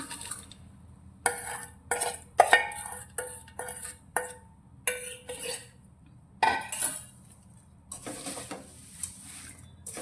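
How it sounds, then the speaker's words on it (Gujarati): A spoon scrapes and rattles through dry poha chevda mix with fried peanuts in a metal pan in quick, uneven bursts, with short pauses between strokes. "બધી જ વસ્તુને આપણે સારી રીતે મિક્સ કરીશું"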